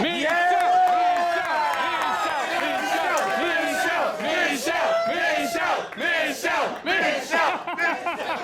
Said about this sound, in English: Michelle got the louder cheer